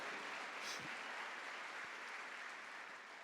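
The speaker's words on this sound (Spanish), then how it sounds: "Dale un aplauso a Él si quiere" A church congregation at an evangelical service in Mexico applauds steadily, a dense continuous patter of many hands heard at a moderate distance and fairly faint, with no clear voices above it.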